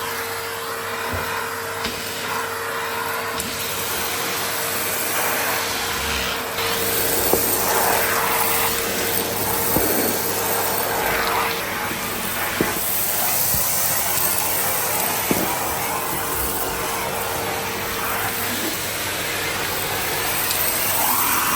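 Numatic Hetty XL Plus vacuum cleaner running with its hard floor tool, a steady close whooshing motor drone with a constant whine, broken by brief scraping knocks as the tool moves across a hard floor.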